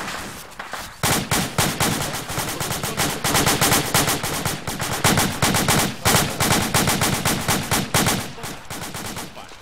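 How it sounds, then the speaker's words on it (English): Long sustained bursts of rapid PKT machine gun fire in a video game, loud and continuous with only brief pauses, clattering rounds in a close, dense rhythm. "we're taking PKT fire!"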